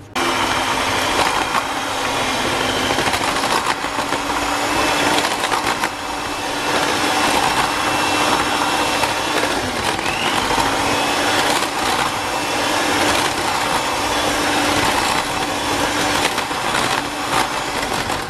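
A steady, loud motor whine drones continuously throughout, an electric mixer running without pause while mixing batter with milk.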